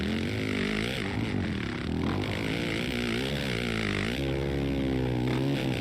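A Suzuki motorcycle engine in the MX vs ATV Legends racing game drones and revs continuously, its pitch sweeping up and down with throttle changes, loud and close with no talk.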